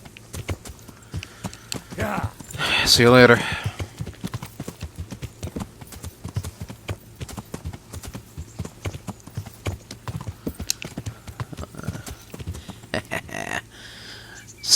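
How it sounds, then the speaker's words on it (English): Horse hooves clip-clop steadily in the medieval game Kingdom Come: Deliverance, a regular rhythmic trot running through the whole stretch, with someone briefly talking over it early on. "Okay, I'm just gonna go on my horse here."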